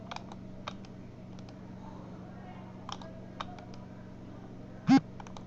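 Typing a keyword search on a computer keyboard: a few scattered, faint key clicks over a quiet room hum, ending with one sharper, louder keystroke like a final press.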